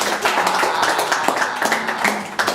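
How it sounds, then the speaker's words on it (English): A studio audience at a quiz show applauds contestant Mike's team, a steady wash of clapping from a modest crowd, moderately loud and continuous with no talk over it. "Let's have a round of applause for Mike and the Cleveland Indians."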